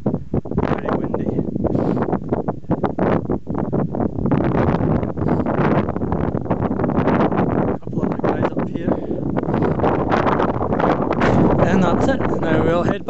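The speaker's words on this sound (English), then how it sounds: "Very windy." Strong wind batters the microphone at a mountain summit, Beinn Narnain in the Arrochar Alps, with loud, continuous buffeting roar and gusty rumble filling the whole stretch.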